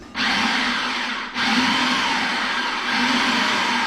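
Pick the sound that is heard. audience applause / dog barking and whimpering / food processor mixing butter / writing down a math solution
food processor mixing butter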